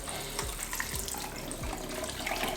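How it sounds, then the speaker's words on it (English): Kitchen tap water runs steadily into a sink to rinse and cool cooked pasta for a quick salad, a continuous close splashing flow with a few soft knocks, and no talking. "just how about you flick open the tap to rinse, cool it"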